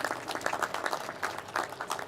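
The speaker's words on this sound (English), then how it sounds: "A huge round of applause once again," Clapping from a convocation audience rolls on in a brief, continuous burst, with individual claps standing out in a lively, moderately loud hall.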